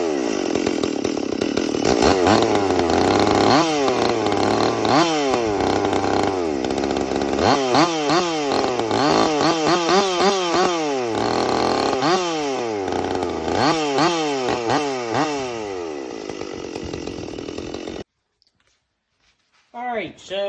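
A Stihl MS 440 chainsaw fitted with West Coast Saw upgrades runs loud and close, revving up and down repeatedly for about eighteen seconds before cutting off, with a brief voice after.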